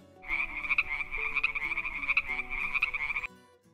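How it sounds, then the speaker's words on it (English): A frog croaks in a rapid, rattling trill for about three seconds, loud and close, then stops abruptly. "Frog."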